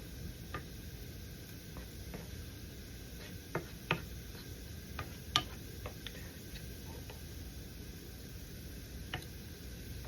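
Fideo noodles and chicken bouillon stirred in a cooking pot, heard as faint, sparse clicks and taps of a utensil against the pot over a quiet background hiss, with no talking.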